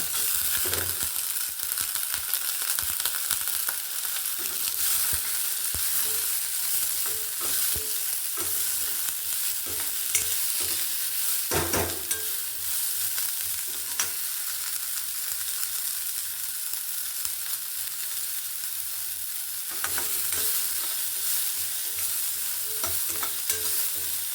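Green chillies, onion and soaked peanuts fry and sizzle in a pan for wheat rava upma, a steady close hiss broken by repeated scraping stirs of a spoon throughout.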